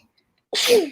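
A single sharp human sneeze bursts out close and loud after half a second of near silence, a short explosive blast with no talk around it.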